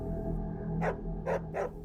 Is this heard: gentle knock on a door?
no